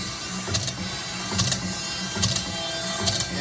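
A Woodmizer BMS250 bandsaw blade sharpener runs continuously with a steady mechanical whir and bright grinding hiss, punctuated by regular rhythmic bursts about every second as it steps through the blade teeth, close and fairly loud.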